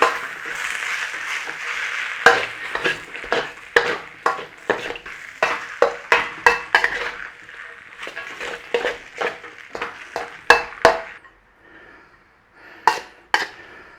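Beef chow fun rice noodles are tossed and stirred in a hot pan with the flame off. The utensil scrapes and clacks in irregular knocks over a soft sizzle, close and moderately loud, then thins to a few sharp taps at the end.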